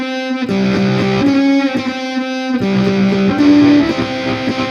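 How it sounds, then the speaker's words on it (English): Electric ukulele played through a Cuvave fuzz pedal, sounding loud and thickly distorted in two buzzing strummed phrases with sustained chord tones that briefly break off in the middle. "it's a different kind of distortion to the one I've had before"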